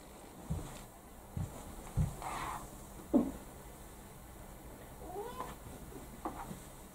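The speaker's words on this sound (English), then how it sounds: "Now, won't you get out of there, you silly cat?" A cat gives a few short meows, spaced apart, over a quiet room hum, with faint knocks and rustles between them.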